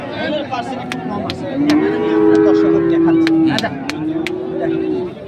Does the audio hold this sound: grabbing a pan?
no